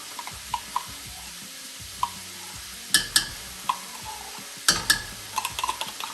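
Tomato paste stirred into a sizzling pan of a chicken riggies sauce: a steady frying hiss under sharp scrapes and clinks of a utensil against the pan, irregular and close.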